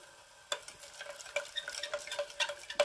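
Egg being stirred into a boiling homemade aquarium fish-feed mixture: repeated close scraping and sloshing strokes in an uneven rhythm, with a soft bubbling hiss underneath and no voices.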